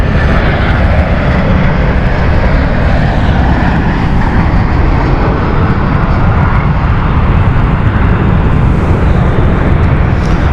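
A passenger airplane on the Amsterdam flight lands at London City Airport, its jet engines a loud, steady, broadband roar that fills the whole stretch without letup.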